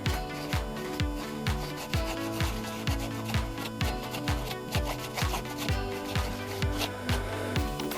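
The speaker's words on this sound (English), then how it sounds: "I'm going to take an emery board and I'm just going to rough up these edges" An emery board rubs the edges of an embroidered chenille applique held in a hoop, making close, steady back-and-forth scratchy strokes in a quick, even rhythm with no talking.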